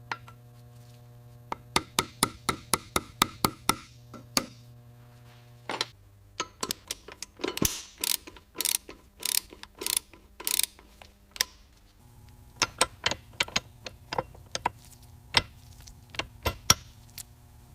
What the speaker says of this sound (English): Now we compress the spring fully to expose the stem.